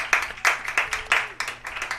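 Scattered hand claps from a crowd at a high school tournament softball game, St. Clairsville at West Holmes, come in uneven bursts at close range and fairly loud.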